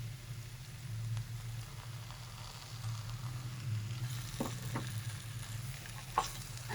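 Homemade khoya is stirred in a pan for chana dal halwa, giving a soft, low sizzle with a steady hum underneath and a few faint scraping clicks near the end.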